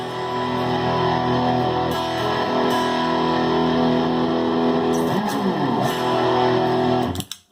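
An electric guitar played through a DOD 250 overdrive pedal, giving a sustained, distorted tone that holds steady for several seconds, shifts briefly near the middle, and then cuts off abruptly at the end.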